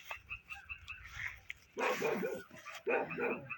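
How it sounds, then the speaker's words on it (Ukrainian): A dog barks twice, loud and close, over a background of faint frog croaks at night in a southern garden. "собаки гавкають"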